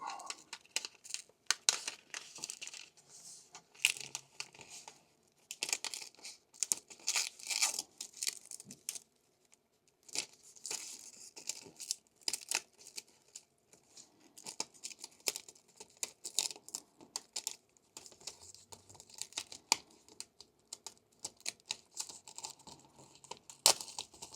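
A Deleter manga tool is slowly peeled out of its plastic packaging, giving quiet, irregular crinkles and crackles with short pauses between bursts.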